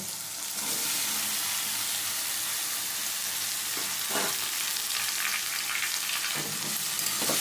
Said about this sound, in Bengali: ভালো করে কচুর লতির সাথে মিশিয়ে নিচ্ছি মশলা মাছ সব একসাথে ভালো করে মিশিয়ে নিচ্ছি